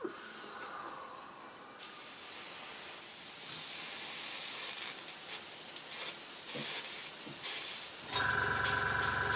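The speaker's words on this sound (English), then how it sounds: "I'm having to gun the airbrush because the paint's slightly thicker" Airbrush hissing out thicker, undiluted paint onto a Spitfire Mk II scale model, a steady broadband spray that starts quieter, then runs loud and continuous with brief pulses, ending in a harsher tone.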